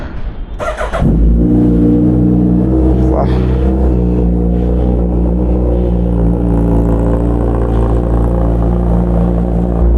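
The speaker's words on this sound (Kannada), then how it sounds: "ಸೊ ಬನ್ನಿ ಬೇಗ ಬೇಗ ಗಾಡಿನ ಕೋಲ್ ಸ್ಟಾರ್ಟ್ ಮಾಡಿ ಬಿಡೋಣ" Royal Enfield-style RRR SP motorcycle cold-started early in the morning: a short cranking burst, then the engine catches and settles into a loud, steady, close idle with a deep rumbling thump and faint revving.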